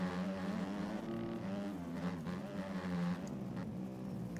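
A 250F motocross bike engine racing in MX Bikes, revving and buzzing with a shifting pitch as the throttle rises and falls, steady and up close with no talk.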